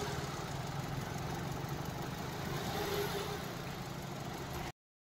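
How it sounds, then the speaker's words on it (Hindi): A 2022 Hyundai Venue's small petrol engine idles with a steady low hum and a faint rise in the middle, then cuts to silence near the end. "इसकी इंजन नॉइस कैसी है।"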